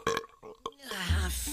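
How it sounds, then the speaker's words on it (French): A cartoon troll girl lets out a loud, drawn-out burp that follows a few short vocal sounds, close and prominent. "Oh, un vrai rot de troll."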